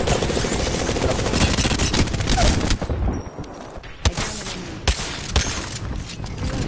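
Airstrike and gunfire in a video game: a dense, loud barrage of blasts and rapid shots that thins into sharp, separate gunshots and booms near the end.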